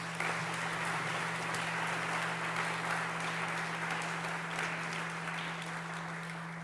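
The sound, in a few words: audience applause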